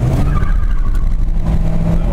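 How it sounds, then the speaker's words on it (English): Ford F150 pickup with a Spartan locker in its 8.8 differential launching hard, loud engine roar and both rear tires spinning with a steady rough rumble close by throughout. "with both tires spinning there"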